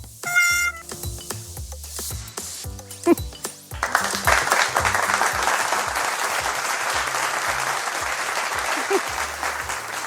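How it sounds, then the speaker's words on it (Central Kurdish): After a few seconds of bright chiming pings, a studio audience bursts into loud, sustained applause that fills the rest of the moment at the end of a quiz game show episode. "چەپڵێکی بەهێز بۆ ئەوانەی کەوتیان"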